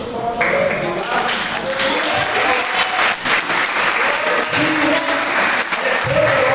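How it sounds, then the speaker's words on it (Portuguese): A church congregation applauds during a sermon, giving sustained, dense clapping from many hands throughout, with some voices mixed in. "eu dou a melhor salva de palmas para essa palavra"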